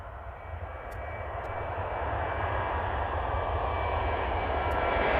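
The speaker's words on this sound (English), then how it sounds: "The Kuwait government Boeing 737 plane has a tail strike while performing takeoff from the Prestwick airport" Kuwait government Boeing 737 on takeoff at Prestwick airport during a tail strike, its engines roaring as a broad, steady rumble that builds slightly, with a faint high whine, alone without talk.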